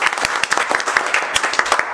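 Audience applause for a winner at an indoor mobile phone repair training event, a steady wash of many hands clapping at close range, with sharper individual claps popping out across the whole stretch.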